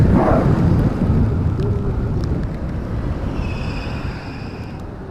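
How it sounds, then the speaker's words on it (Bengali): Heavy rain pours down in a steady broadband roar, with a low rumble early on that fades somewhat; no one speaks. "ভালোই বৃষ্টি পড়তেছে, ভালোই বড় বৃষ্টি পড়ছে।"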